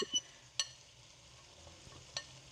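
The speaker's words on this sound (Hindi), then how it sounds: "हम हल्के हल्के हाथ से भूनेंगे इसको।" Mixed vegetables are stir-fried gently over a low flame, a soft sizzle in the background broken by a few sharp clinks of a spoon against the pan, with no talking.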